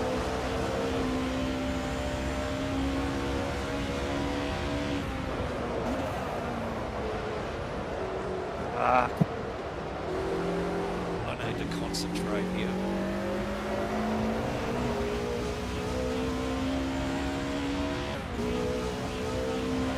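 DTM race car engine in a racing video game at Silverstone, droning and shifting pitch steadily through the whole stretch with occasional revs, while someone talks over it throughout.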